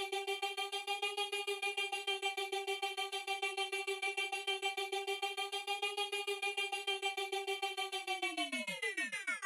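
A buzzy atmospheric vocal synth pad shaped by an LFO holds a steady tone with a rapid pulsing flutter, then bends sharply downward at the end; quiet, with no voices.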